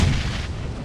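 Grenade blast in the PUBG video game, a loud, deep, rumbling boom filling the whole moment with a heavy low-end roar that barely fades.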